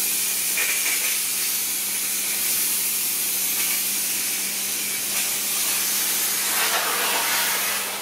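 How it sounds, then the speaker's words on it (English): A Pur Steam Therma PRO 211 steam cleaner releases a continuous loud hiss of steam, steady and broadband, with slight swells in intensity and no talking. "I'm just going to steam this."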